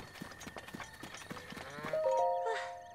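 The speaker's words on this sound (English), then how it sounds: "The sheep have calmed down." In The Legend of Zelda: Breath of the Wild, soft trotting hoof clops lead into a short, wavering sheep bleat near the end, all fairly quiet.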